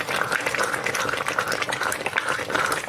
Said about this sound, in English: Stir all that goodness in there.